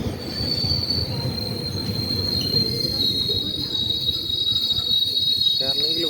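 A GO Train commuter train, number 327, in Canada rolls along with a continuous rumble and a sustained high metallic wheel squeal, a faint voice surfacing near the end.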